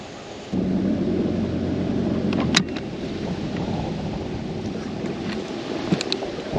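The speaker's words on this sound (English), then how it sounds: "this wind is blowing. I don't know what it's blowing, 30? I mean, it is blowing very hard." Strong wind roars steadily over a muddy river during fall bass fishing, a loud broadband rush with gusty swells and a brief sharp knock midway, no talking.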